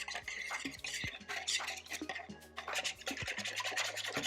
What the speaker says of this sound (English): So first we just need to whisk it up nicely to mix everything in together.